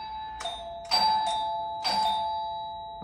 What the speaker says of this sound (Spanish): voy a ver si funciona el timbre